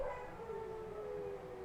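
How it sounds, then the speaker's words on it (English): Dogs somewhere upstairs let out a long, wavering howl that slowly drops in pitch. It comes through faint and distant, with nobody talking over it. "We got the cheer squad upstairs barking nice and loud."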